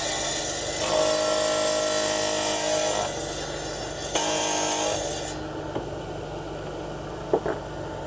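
Rented wet tile saw cutting ceramic floor tile: a steady, close grinding whine runs for about five seconds and then stops, followed by a few light knocks.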